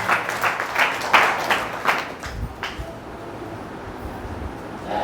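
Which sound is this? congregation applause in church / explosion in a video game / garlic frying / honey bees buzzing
congregation applause in church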